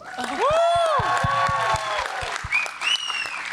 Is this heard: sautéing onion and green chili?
no